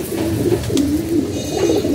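Pigeons coo in a loft of paired birds, soft repeated throaty rolling calls close by, overlapping in a continuous gentle rhythm with no talk.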